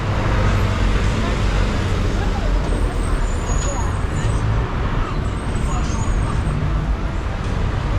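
Dense street traffic on Tom Mboya Street in Nairobi, a steady roar of cars, buses and trucks close by with an occasional high brake squeal, continuous throughout.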